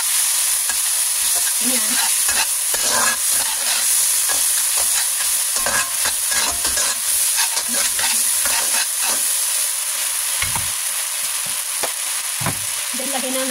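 Bagoong shrimp paste sautés in a hot pan for ginisang monggo, giving a loud, continuous sizzle broken by frequent scraping stirs close up, with a brief spoken word.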